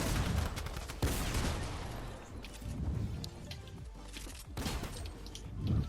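Rapid bursts of gunfire from a Fortnite match play loud and near, overlapping into a dense continuous clatter with a few stronger blasts throughout.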